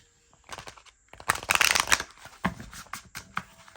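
Oracle cards riffle and slap together in quick bursts, a loud flurry in the middle then softer scattered shuffles, close by with no talking.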